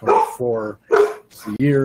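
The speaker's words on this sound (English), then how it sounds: "Sorry about the dogs." Dogs bark loudly and close by in repeated harsh bursts, overlapping someone speaking.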